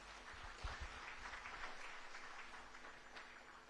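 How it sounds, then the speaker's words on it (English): Steady audience applause at the closing of a water and environment week event in Uganda, a dense wash of many hands clapping at even volume, with a few louder thumps near the start. "Another big round of applause for Abdul Latif Khalid."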